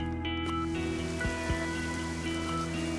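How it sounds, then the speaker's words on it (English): Heavy rain falls steadily in a coastal Malaysian village of stilt houses over the sea, a dense continuous hiss with a low hum underneath. "Today, it is raining heavily."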